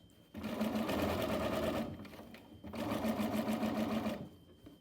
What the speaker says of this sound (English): What I do first is I put like a basting stitch on the edge just to keep it in place.